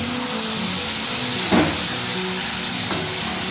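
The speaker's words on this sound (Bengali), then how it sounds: "চিকেনটাকে একটু নেড়ে চেড়ে ভেজে নেব।" Chicken fries in a pan with a steady, loud sizzle and hiss while it is stirred, with a couple of brief scraping stir sounds and no talking.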